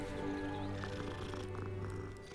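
Cat purring while being petted in the video game Hogwarts Legacy, a soft, continuous low rumble under steady game ambience, quiet and unbroken throughout.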